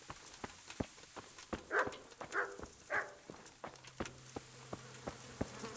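Flies buzz around dead bodies in the medieval game Kingdom Come: Deliverance, a faint continuous drone with scattered clicks and a few louder swells.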